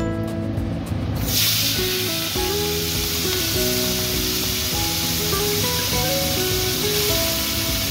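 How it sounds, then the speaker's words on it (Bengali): Prawns fry lightly in hot oil in a kadai, a steady bright sizzle and hiss that holds close and even throughout, with a burst of sharper spitting right at the start and a faint musical tone running underneath. "তেলটা কড়াইতে গরম হয়ে গেছে, আমি চিংড়ি মাছটা হালকা ভেজে নেব।"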